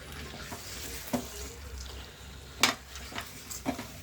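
A spoon stirs Telangana-style fish curry in a pan, giving a few sharp scraping clacks against the metal over a low background sizzle. The sounds are close and fairly quiet, with no talking.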